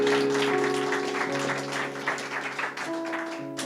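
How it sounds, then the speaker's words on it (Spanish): A church congregation applauds during a Spanish-language service, a steady wash of clapping over sustained organ or keyboard chords, with a few shouted voices mixed in. "Dele un aplauso al Señor en esta mañana"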